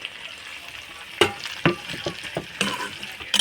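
Meat with chunks of potato, capsicum and tomato sizzles steadily in a pan, broken by several sharp clacks and scrapes of a utensil stirring against the metal, close and fairly loud.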